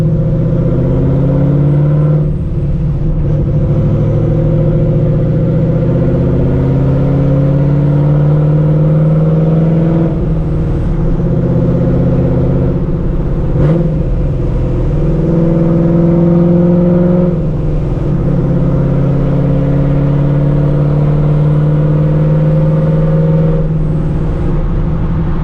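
A Procharged 2V Mustang GT with open exhaust cutouts revving repeatedly, loud and close, with deep rising and falling engine tones over a steady idle and no talking.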